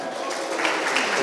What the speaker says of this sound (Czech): potlesk pro vítěze